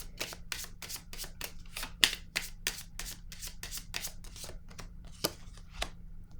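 Tarot cards handled and laid down in a reading, a quick series of about twenty sharp papery snaps and flicks in steady rhythm, close and fairly loud over a low steady hum.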